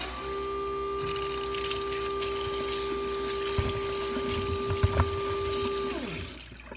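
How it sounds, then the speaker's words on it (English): Running water rinsing potatoes: a steady rushing flow over a droning tonal hum, with a few knocks and clatters, ending as the flow stops near the end. "had to rinse the potatoes"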